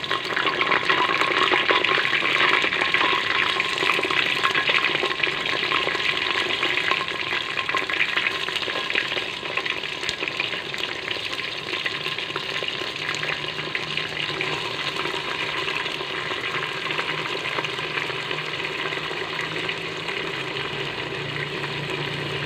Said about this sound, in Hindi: बैंगन को हम 2 से 3 मिनट के लिए फ्राई करेंगे।